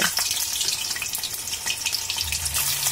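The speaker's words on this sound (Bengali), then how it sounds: "তেলটা গরম হয়ে গেলে কেটে রাখা পনিরের টুকরোগুলো দিয়ে দেব।" Paneer pieces frying in hot mustard oil in a kadai, a steady close hiss and sizzle with crackling spatters throughout and no voices.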